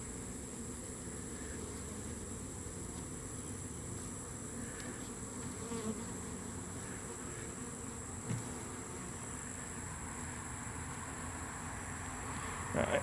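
Honey bees buzz during a hive cutout, a dense steady drone of many insects close by with occasional faint knocks and no talking.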